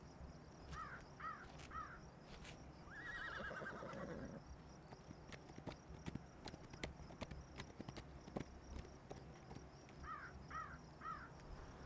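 Horses whinny in short bursts amid hoof clip-clops and scattered knocks, with a crow cawing faintly in a quiet outdoor setting.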